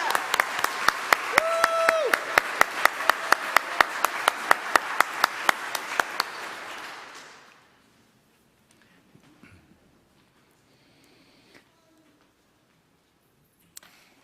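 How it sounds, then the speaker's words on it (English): A crowd applauds the Age of Reason graduates at a flower celebration, fairly loud and dense at first, then quickly thinning and fading into near silence with a few faint stray sounds afterward. "let's give them one final round of applause"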